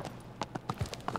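Horse hooves clip-clopping at a gallop in Shadow of the Colossus on PS4, a quick uneven run of soft thuds, fairly quiet and brief, with no talk.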